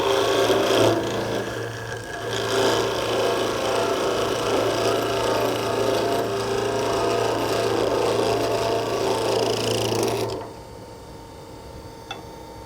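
A woodturning tool cuts through the base of a turned wooden Christmas tree on a lathe, a steady loud rasping scrape with a low hum, running for about ten seconds before stopping abruptly.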